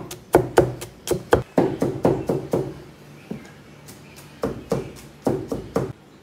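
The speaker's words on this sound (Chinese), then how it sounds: "把大蒜切成蒜米" A kitchen knife chops garlic into mince on a cutting board: rapid, crisp knocks in quick bursts, close and fairly loud, with a brief pause in the middle before the chopping resumes.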